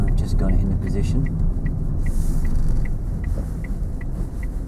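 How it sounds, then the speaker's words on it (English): A car rolls past a crossroads as a steady low road rumble, mid-distance and continuous, under a pedestrian scene with a faint regular ticking, likely a crossing signal. "You're going to go before or after this car?"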